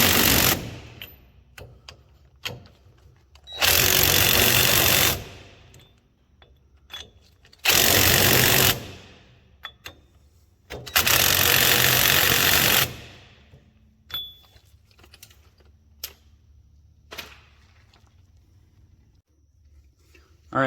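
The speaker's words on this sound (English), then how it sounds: "Now what I'll do is just torque them down with the impact" An impact wrench runs down the wheel lug nuts on an Odes Dominator side-by-side during a 5x114.3 wheel install. Three loud, sustained bursts of several seconds each are separated by quieter clanks and handling noises.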